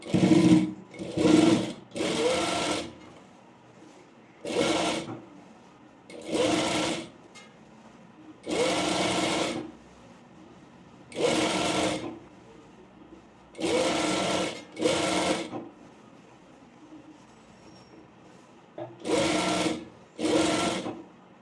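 Sewing machine running in repeated short bursts of top stitching on a layered frill frock, each run lasting about a second or two with pauses between, close and clear with no talking.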